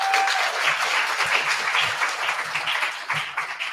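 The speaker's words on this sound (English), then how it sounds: "Give her a round of applause as well" An audience at a Baptist academy high school awards ceremony claps steadily, a dense, even round of applause from many hands filling the room.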